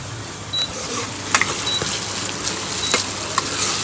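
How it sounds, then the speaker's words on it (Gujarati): Onions and tomatoes sauté in a pan for Gujarati bhindi bhaji, giving a steady, close sizzle broken by a few sharp stirring clicks and taps, with no talking. "અત્યારે ડુંગળી ટમેટા સતળાઈ રહ્યા છે"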